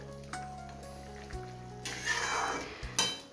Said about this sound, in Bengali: এবারে মাছগুলো দিয়ে একটু ফুটিয়ে নেব।